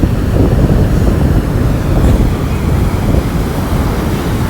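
Sea waves wash onto a beach in a steady, close roar, with wind buffeting the microphone throughout and no clear breaks.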